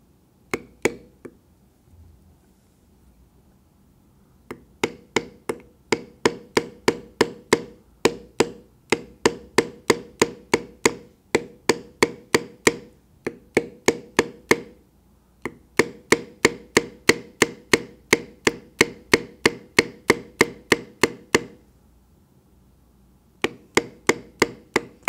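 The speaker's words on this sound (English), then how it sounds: "I will bevel a little bit more lightly through there" A beveling tool is struck repeatedly to carve a longhorn head into leather, producing close, crisp, evenly spaced taps in long rapid runs separated by short pauses.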